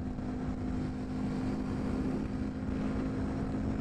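Honda Grom motorcycle engine in fifth gear climbing a hill at around 45 mph, a steady buzzing drone with a constant tone mixed with wind roar, continuous throughout.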